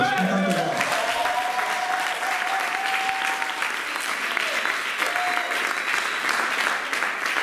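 A church congregation breaks into loud, sustained applause, with a swell of voices mixed into the clapping throughout.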